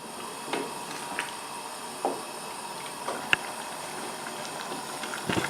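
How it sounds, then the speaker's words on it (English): A beef stew sauce thickened with corn flour bubbles toward the boil, a low simmering hiss broken by scattered soft pops and occasional spoon scrapes, close and quiet with no speech. "Bring that to the boil, stirring it."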